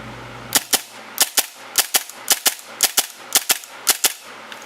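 Airsoft pistol with a steel slide fires in quick pairs of sharp snapping shots, about a dozen in all, loud and close with brief gaps between each double tap.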